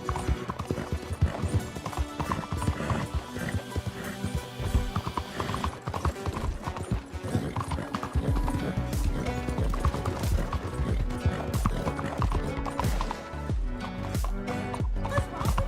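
Hoofbeats of an Arabian horse galloping in Red Dead Online, a steady rapid clip-clop rhythm running throughout, close and prominent, with an occasional whinny.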